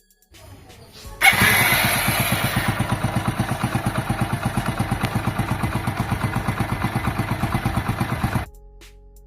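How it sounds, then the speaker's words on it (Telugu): A Hero Splendor Plus 100cc motorcycle engine, fresh from a timing chain replacement, fires up and idles with a steady, even thumping rhythm close by, then cuts off near the end. "సో ఇంజిన్ సౌండ్ ఏ విధంగా వస్తుందో ఒకసారి విందాం."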